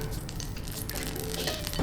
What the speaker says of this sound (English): Yeah, they're gonna sizzle.